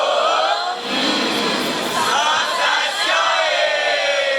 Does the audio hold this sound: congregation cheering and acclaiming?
yes